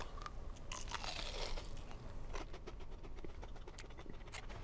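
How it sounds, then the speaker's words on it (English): Close, crunchy bites and chewing of a crisp sugar-sprinkled churro, with repeated crackling crunches in quick succession, fairly quiet and without talk. "So let's take a bite and see what it tastes like here."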